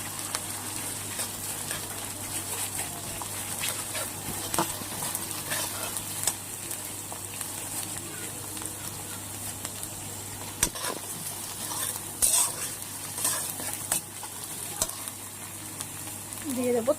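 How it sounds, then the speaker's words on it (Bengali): Chopped onion and crushed ginger fry in a pan with green chillies, giving a steady sizzle with occasional stirring scrapes throughout, close and fairly loud with no talking. "পেঁয়াজটা হালকা ভাজা হয়ে এসেছে, এবার দিয়ে দেবো থেতো করে রাখা আদাটা"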